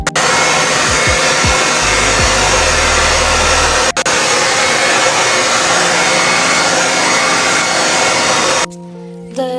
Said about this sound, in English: we are going to blow dry it.